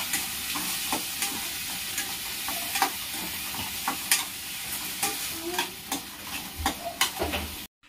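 Rava kichadi stirred in a pan with salt and turmeric, a steady sizzle of frying food with a spoon scraping and clinking in an irregular rhythm, close and fairly loud.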